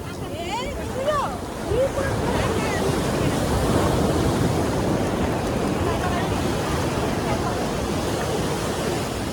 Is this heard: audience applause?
no